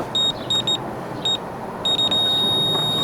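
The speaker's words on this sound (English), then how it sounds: "It vibrates when I hit 40, beeps when I'm getting close." A torque wrench tightening a Honda mower blade gives short high electronic beeps in uneven bursts, several chirps spaced out then a steadier tone at the end, over a dull background hum.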